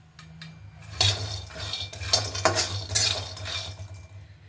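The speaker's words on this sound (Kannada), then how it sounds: "ಅದಕ್ಕೆ ಒಂದು ಮೆಜರ್ಮೆಂಟ್ ಬೌಲಲ್ಲಿ 1 ಬೌಲು ಕಡಲೆ ಬೀಜ ಹಾಕ್ಕೊಳ್ತಾ ಇದ್ದೀನಿ." A cup of peanuts dry roasting in a thick pan over a medium flame, stirred continuously, producing repeated close rattling, scraping and clinking bursts of nuts against the metal.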